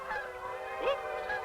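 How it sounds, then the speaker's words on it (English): Canada geese honking across open water, several loud nasal calls overlapping, close and clear against a quiet background. "An unmistakable sound cuts across the water. Canada geese congregating for the migration south."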